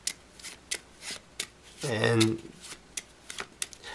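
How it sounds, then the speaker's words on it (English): A deck of playing cards is shuffled once in a quick riffle lasting about half a second, set between scattered light taps and handling noises, with a single brief spoken word nearby. "I'm going to give these cards a little bit of a shuffle."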